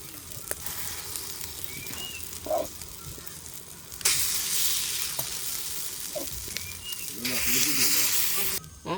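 Batter sizzles as it is poured into the oiled wells of a kuzhi paniyaram pan for kuzhi paniyaram, a steady frying hiss that swells loudly in two bursts, with faint clinks.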